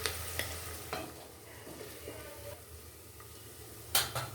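Green chillies frying in hot oil in a pan for a hyacinth bean rice bath, a steady low sizzle broken by a few stirring scrapes and a sharp metallic clink near the end, with no voices.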